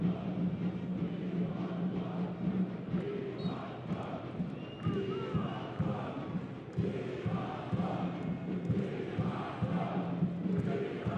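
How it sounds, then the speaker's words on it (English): A football crowd at a Suriname versus St. Vincent and the Grenadines World Cup qualifier chants in a rhythmic, sustained roar, steady and fairly distant throughout with pulsing repeated phrases. "We want more, is the cry out from the crowd."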